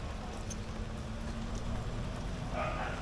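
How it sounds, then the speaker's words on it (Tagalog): Faint, steady rain hisses evenly throughout, with a low constant rumble beneath and no voices. "Umuulan na naman dito sa Bordeyos."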